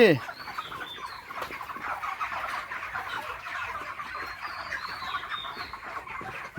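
Broiler chickens about 38 days old cluck in a steady, dense chorus on a poultry farm, with a sharp squawk at the start and faint high calls scattered above the murmuring flock.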